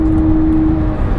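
A turbocharged car engine drones loud and close in a short burst as the driver downshifts into third gear, with a steady tone that fades partway through.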